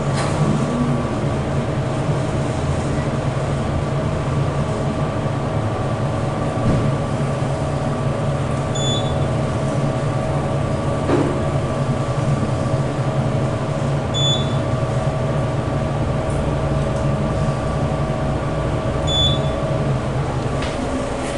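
A Dover hydraulic elevator motor in a parking garage runs as a steady, loud, unbroken hum with a low drone throughout, and a few faint high beeps sound now and then.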